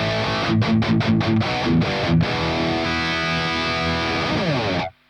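A high-gain electric guitar through a Kraken amp on a cab preset chugs a run of tight palm-muted chords, then lets a distorted chord ring out and fade before stopping abruptly.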